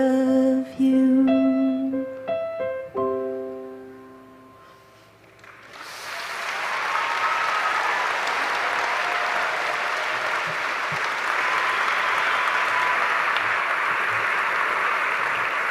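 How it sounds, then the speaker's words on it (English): A sung piano-accompanied ending by graduating seniors gives way to sustained, loud applause and crowd clapping filling a commencement ceremony venue. "Let's give one more round of applause to these talented seniors."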